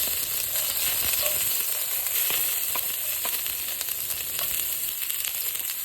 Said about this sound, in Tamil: பூண்டை வதக்கிறது.